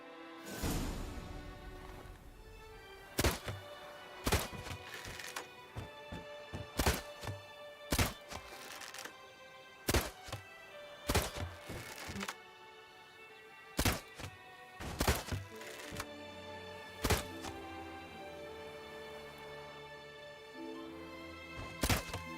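Arrows thunk into targets during an archery contest in Witcher 3, a dozen or so sharp impacts landing at irregular intervals over a steady musical backdrop, no talking.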